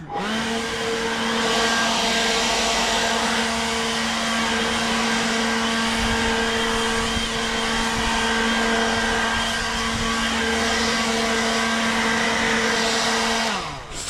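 A small blower runs steadily and loudly, drying a John Deere S100 riding mower; a constant whining hum holds for about fourteen seconds before it spins down at the end.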